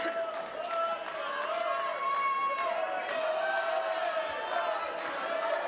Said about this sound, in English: the crowd are into it